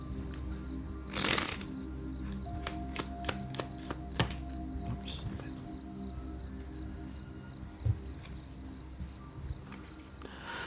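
Oracle cards for a tarot-style reading being shuffled by hand, a sharp riffle burst near the start followed by softer repeated flicks and slides of the deck at close range, with no voices.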